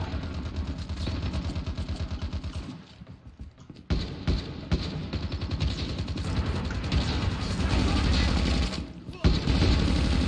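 Rapid bursts of gunfire in Call of Duty Mobile crackle in quick succession, loud and close, with a short lull before the shooting resumes, and a voice speaks underneath.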